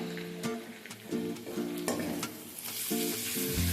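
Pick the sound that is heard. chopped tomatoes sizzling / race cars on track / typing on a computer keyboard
chopped tomatoes sizzling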